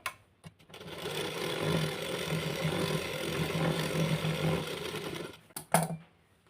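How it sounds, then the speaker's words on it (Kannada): A sewing machine stitches along the lining of a blouse in one continuous, close, whirring run lasting several seconds, ending with a couple of sharp mechanical clicks as it stops. "ಈ ಲೈನಿಂಗ್ ಮೇಲೆ ಒಂದು ಸ್ಟಿಚ್ನ ಹಾಕ್ತೀನಿ"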